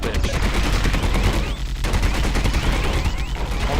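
Loud, sustained gunfire in a video game, with rapid overlapping shots running almost nonstop, close and dense.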